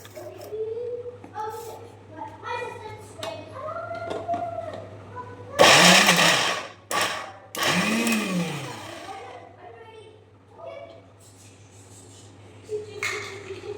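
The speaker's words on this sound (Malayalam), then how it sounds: "കുറച്ച് കുറച്ചായിട്ട് അടിച്ചെടുക്കാം കേട്ടോ" A kitchen mixer grinder runs in short bursts while blending ingredients, with loud whirring pulses separated by pauses, and a person's voice speaks over and between the bursts.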